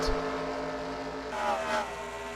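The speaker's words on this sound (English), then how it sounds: "You can hear the idling engines up ahead" Several race car engines in a racing video game idle at Charlotte with a steady low rumble, a brief revving swell rising midway, heard from a moderate distance.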